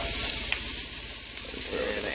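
Pre-cut mushrooms and onions sizzling in a pan with cooking spray, a steady close hiss with faint crackles.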